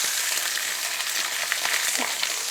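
Blackened trout frying in a hot pan just after being flipped, a dense, even sizzle that crackles steadily from start to finish, close and moderately loud.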